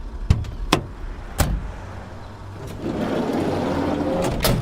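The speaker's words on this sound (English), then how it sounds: "I'll get out and open your door" Car door handled from outside: a few sharp clicks and thuds of the latch and door, then a low rushing rumble as it swings open, fairly close with no talking.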